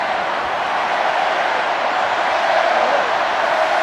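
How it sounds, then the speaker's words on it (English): A big rugby union stadium crowd at a Wales versus Japan match rising into a steady, loud roar of cheering, a dense continuous wash of thousands of voices with no single voice standing out. "At last, the crowd comes alive."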